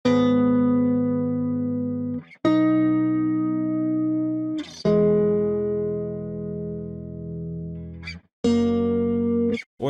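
Dry recorded real guitar sample for a tropical chill house pack: a few long sustained notes and chords, each ringing for about two seconds with sharp attacks between them, loud and alone with no talk.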